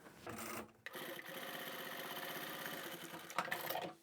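A sewing machine stitches a zippered pouch's bag opening closed, running in a steady fast rhythmic whir for several seconds with brief pauses near the start and end, close and clear with no talking.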